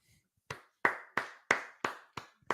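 A single person claps hands in a steady rhythm of about seven sharp, close claps, spaced evenly and heard alone.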